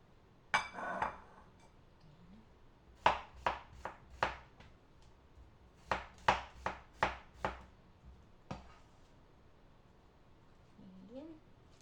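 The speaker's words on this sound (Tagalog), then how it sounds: "Hiwain natin na manilipis ang ating cucumber." A knife slices cucumber thinly on a board for a salad, a run of crisp, sharp chops in quick bursts of several strokes with pauses between, close but fairly quiet, a voice briefly heard.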